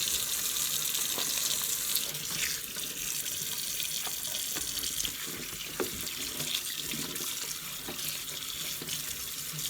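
Lukewarm tap water runs steadily into a kitchen sink to rinse peas, with a constant splashing hiss and a few faint clinks, close by and without talk.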